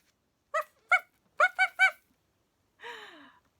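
A small dog gives several short, sharp barks or yips in quick succession, close and fairly quiet, followed by a brief whiny sigh-like vocalization.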